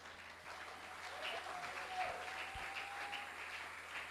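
Church congregation at a Sunday service applauding together, a steady dense wash of clapping that carries evenly through the whole stretch.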